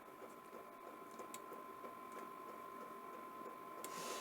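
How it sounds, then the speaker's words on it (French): A milling machine drills slowly into steel with a tap test setup, giving a steady faint mechanical hum with a constant tone and light ticking, without talk. "On va percer tout doucement"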